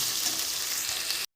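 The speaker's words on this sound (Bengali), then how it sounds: "তেল গরম হয়ে গেছে, চিংড়ি মাছগুলো ছেড়ে দেব" Prawns sizzle steadily in hot oil for a Bengali lau chingri dish: a loud, dense, even crackle that runs unbroken, then cuts out abruptly near the end and briefly resumes.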